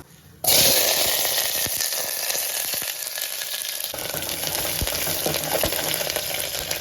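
Onions and curry leaves drop into hot oil already crackling with mustard seeds, setting off a loud, steady sizzle that runs continuously and close with no voices.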